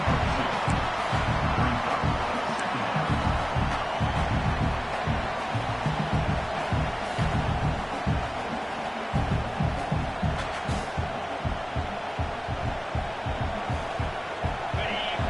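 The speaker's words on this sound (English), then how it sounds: "And the crowd coming to life here, trying to help this defense down in the red zone." A college football stadium crowd roars steadily from a distance to back the defense in the red zone, a broad wash of cheering with no clear peaks.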